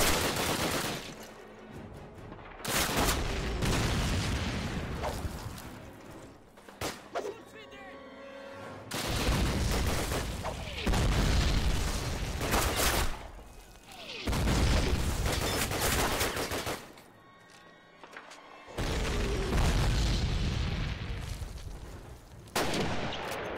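Call of Duty 1 gameplay with loud bursts of gunfire and heavy booming grenade blasts in several long, dense barrages separated by short quieter gaps, while a voice talks at times.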